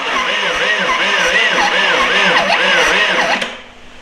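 Caterpillar 4.4-litre four-cylinder diesel engine cranking over on the starter without firing, a loud, close, rhythmic whirring churn that drops away abruptly near the end.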